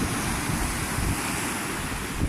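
Sea waves wash steadily along a shore while strong wind buffets the microphone, a continuous rushing roar with no pauses or voices.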